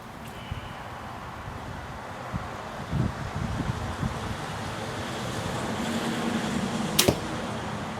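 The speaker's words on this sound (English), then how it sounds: "So you can hear the bow." A Prime Centergy compound bow looses a 350 grain arrow outdoors, a single brief sharp release near the seven-second mark against steady wind and surf-like background noise.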